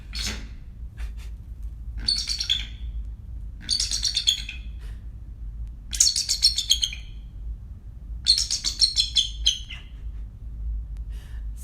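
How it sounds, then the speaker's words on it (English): A bald eagle in his early twenties calling, high thin chattering bursts of squeaky, piping notes repeated every couple of seconds, close and clear over a low background hum, no talk. "giving us an excellent example of what bald eagles actually sound like"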